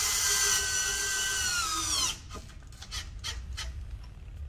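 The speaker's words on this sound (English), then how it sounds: "we're going to hold that into the steel and then just slowly drive it and let it cut threads" Power drill driving a screw into steel to cut threads while mounting fenders on a 2017+ Can-Am Maverick X3: a shrill, squealing whine for about two seconds, then quieter scraping and ticking.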